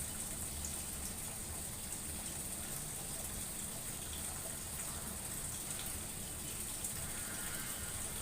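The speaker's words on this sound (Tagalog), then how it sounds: "Yung kinakarga niyang tubig na yan, para sa banlaw na yan." A Whirlpool top-load washing machine fills with water for its rinse cycle, a steady, even gushing rush that runs unbroken and fairly quiet throughout, with no voices.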